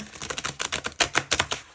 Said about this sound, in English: So I'm just going to give it a quick shuffle